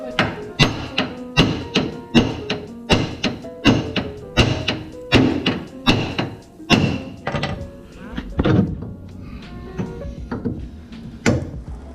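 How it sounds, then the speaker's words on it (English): A hammer strikes a Honda Civic EG's metal lower control arm again and again in a steady rhythm, about two blows per second, loud and close, each with a sharp clanging thud. "now we're gonna hit the lower control arm with the hammer"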